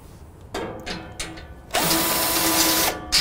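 A power driver spins out Torx fasteners from the back panel of a Rittal TS-8 modular equipment cabinet, with short whirring bursts followed by a longer sustained run, close and fairly loud.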